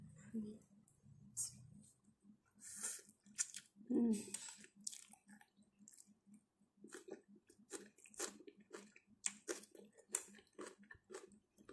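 Soft close-up chewing and crunching of cooked bitter mustard greens and Indomie noodles with chicken feet, irregular bites and mouth sounds under faint murmured talk.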